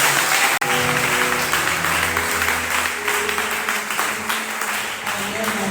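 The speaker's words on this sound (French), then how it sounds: "Est-ce que tu peux acclamer pour le Seigneur?" A congregation at a worship service claps and cheers, a sustained wash of applause with voices and music tones running beneath it, after a brief sharp dropout at the start.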